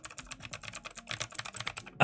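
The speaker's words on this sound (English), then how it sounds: "can you hear that? Cherry MX Blue clickies." Rapid clicky keystrokes on a full-size mechanical keyboard with Cherry MX Blue switches, a dense irregular patter of sharp clicks up close, ending in a louder clack.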